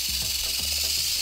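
A venomous snake rattles its tail in a close, steady buzzing hiss that runs unbroken through the brief moment, with faint low knocks underneath.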